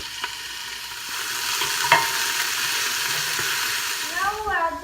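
Garlic and onions are stirred as they fry in a pan for a pasta sauce with sausage and tomato, producing a continuous, moderate sizzle with spoon scrapes and a brief knock.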